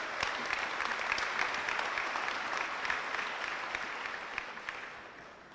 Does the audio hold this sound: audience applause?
yes